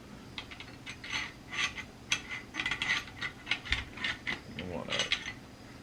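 A greasy Winchester M1 Garand bolt handled up close, giving a run of short metallic clicks, scrapes and light clinks in an irregular rhythm with no talking.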